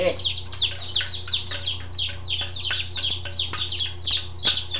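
Many small chicks peep constantly in high, rapid chirps, a busy overlapping chorus over a low steady hum.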